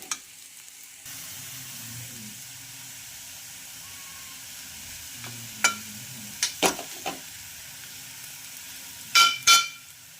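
Semolina sautés in ghee for fasting sheera, a soft, steady sizzle under a few sharp spoon scrapes and clinks against the pan, louder in short bursts toward the end.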